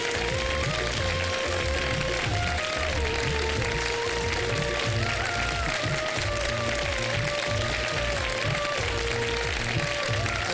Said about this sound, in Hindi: सारे ऑडियंस भरपूर तालियाँ बजाएं